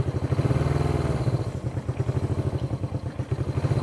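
A vintage Honda CB360 motorcycle engine runs roughly at idle, a close, loud, uneven chugging and thumping pulse that sags and recovers as it struggles to keep running.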